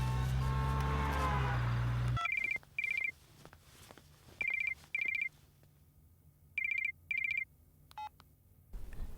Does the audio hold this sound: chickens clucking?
no